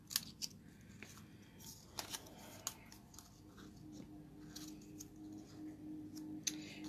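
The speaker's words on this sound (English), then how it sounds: "Then I'm going to cut just below. I'm using the long way of this punch." A hand punch cutting material for a small brimmed piece near a scarf, giving a few crisp, quiet snips and clicks spaced irregularly over soft background rustle.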